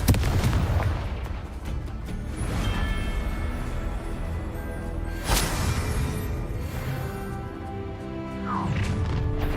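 Spell blasts and explosions during combat in the video game Hogwarts Legacy, with repeated booming impacts and crashes amid a dense, loud battle din and occasional sharp bursts.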